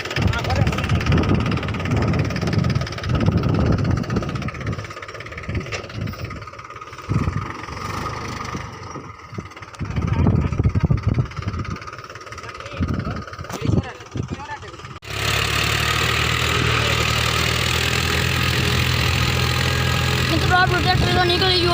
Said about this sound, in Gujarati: મિત્રો આપણું ટ્રેક્ટર તો નીકળી ગયું હવે.